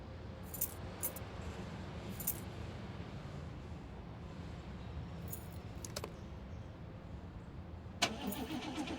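An old car engine in a video game cranks and churns without catching, a low grinding rumble that holds steady throughout with faint metallic clicks and jingles of keys on top and no speech.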